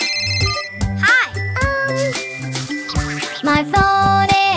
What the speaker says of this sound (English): My phone is ringing now.